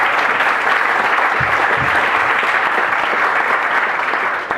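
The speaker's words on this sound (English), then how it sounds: "Can we give them a round of applause, please?" Wedding weekend guests applaud the parents during toasts with a steady, full burst of clapping from a crowd, loud and even from start to finish before tapering off at the very end.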